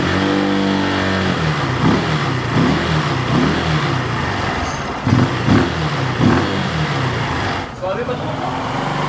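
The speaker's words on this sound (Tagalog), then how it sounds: "painitin lang din natin yung makina kahit pa paano" A 14-year-old Kawasaki Rouser 135LS motorcycle engine idles and warms up close by, with a few throttle blips rising and falling, while someone talks over it.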